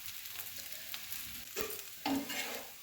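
A dosa roasting on a hot pan gives off a soft, steady sizzle, with a few louder scraping and flipping sounds near the end, close and fairly quiet.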